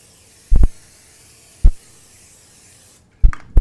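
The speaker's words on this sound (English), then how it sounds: "Spray it down with some virgin olive oil" Virgin olive oil sprayed from a can onto a non-stick tray while cooking mahi mahi: three short, close hissing bursts, each about a fraction of a second, separated by quiet pauses.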